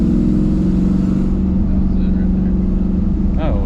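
A Chevrolet Camaro engine revs up to the point set on its newly installed shift light, a loud, close, sustained rumbling drone that holds steady for the whole moment, with a brief voice near the end.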